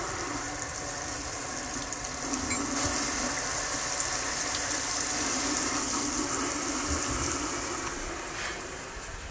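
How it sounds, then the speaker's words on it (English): Cold water gushing steadily from a tap into a sink waste arm, a continuous close hiss and splash with no pauses. "Waste arm will run a little cold water right here."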